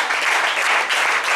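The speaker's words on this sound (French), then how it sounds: "Applaudis la parole" Audience applause at a church sermon, a dense, even wash of clapping from a congregation that holds steady and fairly loud throughout a short burst.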